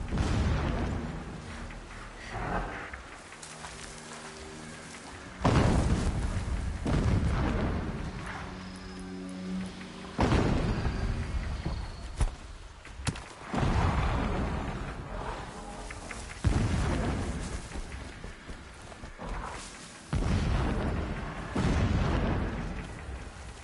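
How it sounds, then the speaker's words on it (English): Distant explosions boom and rumble in Horizon Zero Dawn Remastered, a series of heavy blasts recurring every few seconds over a continuous low ambient background. "Explosions in the distance."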